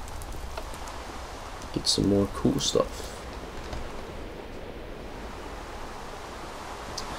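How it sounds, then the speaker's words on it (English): Steady hiss of rain falling in the Minecraft video game, a continuous broadband wash running throughout while someone talks briefly over it near the middle. "Still, oh, it's raining!"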